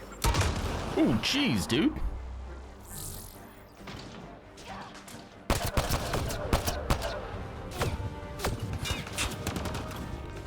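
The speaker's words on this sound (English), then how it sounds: "Now they're shooting at me." Bursts of enemy gunfire in Mass Effect: Andromeda crack in clustered volleys, some sharp and close, while a player reacts with short exclamations.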